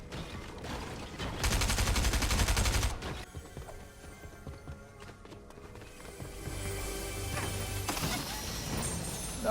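Shotguns in a video game fire in rapid bursts of heavy blasts, then come scattered shots and crashes over busy game noise, loud at first and quieter later.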